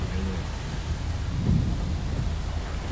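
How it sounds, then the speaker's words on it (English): Thunderstorm rain sweeping in over SW Michigan during a storm chase, a steady broadband wash of rain with low rumbling swells, loud and close, peaking in a heavier surge midway through, no voices. "The rain curtains are moving in quick behind us."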